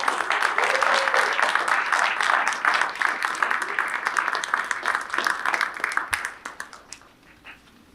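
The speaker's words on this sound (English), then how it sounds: "Let's give them one more round of applause." A crowd at a school Student of the Month ceremony gives a dense round of applause for the honorees. Clapping is close and loud and continues steadily for about six seconds, then thins to a few scattered claps and fades out.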